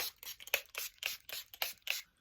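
A Revolution Rose Fizz makeup setting spray bottle is shaken in quick rhythmic strokes, about six or seven faint rattling swishes close to the microphone, with no talking over them.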